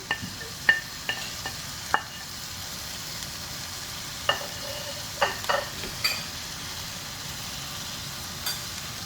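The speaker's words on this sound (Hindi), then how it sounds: "और मेथी डाल के अच्छी तरह मिक्स कर दूंगी" Vegetables with fenugreek, carrots, potatoes and peas being stirred in a pan, with soft scraping stirs and occasional utensil clinks over a faint steady sizzle, fairly quiet.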